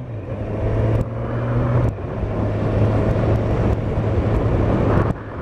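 A 2016 Kawasaki Z1000SX motorcycle drones loudly and steadily under way. The engine note drops briefly at several points where clutchless upshifts change its pitch, and there is constant wind roar with no talking.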